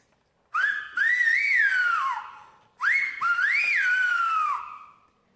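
Two long phrases in the whistled language of Tenerife, with rising and falling pitch glides, loud and close, separated by a short pause, with no talking.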